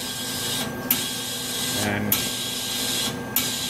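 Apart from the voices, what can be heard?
MBraun Labmaster 130 glove box antechamber refilling with gas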